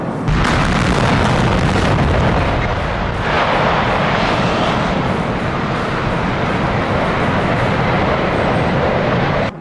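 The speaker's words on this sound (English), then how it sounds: "this smokestack collapses like a giant falling tree. Every blast, every tremor, choreographed to perfection." A factory smokestack is brought down by a demolition blast: a loud, sustained roar of booming and crumbling rumble that carries on unbroken through the collapse, with no voices.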